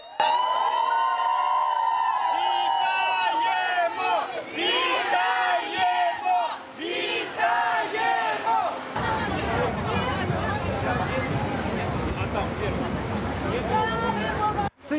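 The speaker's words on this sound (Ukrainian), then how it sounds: "Їхні автобуси заїжджають до лікарні під вигуки." A crowd outside a hospital in Ukraine cheers and shouts as buses carrying freed prisoners of war pull in. The roaring, clamorous voices grow denser in the second half, and a voice speaks over them throughout.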